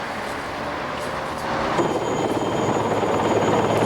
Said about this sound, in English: Choppers evacuating the worst of the wounded